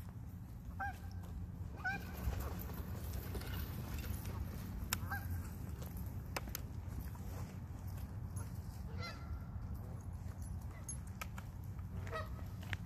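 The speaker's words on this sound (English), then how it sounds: "See the geese, Moki?" Geese honking outdoors on a walk with a husky, with repeated calls spread across the clip over steady low wind or traffic rumble; no talking.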